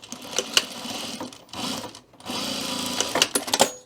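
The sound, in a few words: sewing machine stitching a quarter-inch seam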